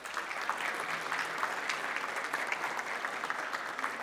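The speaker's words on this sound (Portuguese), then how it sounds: "Uma salva de palmas para Amanda Krug." Audience applause at a business congress award ceremony in Brazil, a steady dense clapping that holds evenly throughout without voices.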